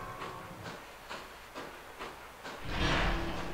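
A train rolling across a bridge in the video game Bridge Construction Set, regular clacking bursts about every half second followed by a louder hissing surge near the end.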